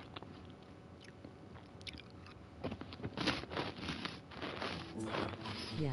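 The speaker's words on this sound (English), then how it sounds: "Sorry if my crunching is loud." Dorito crackers being crunched and chewed close to the mouth, a series of crisp bites and chews that grow louder toward the end, over a low background murmur.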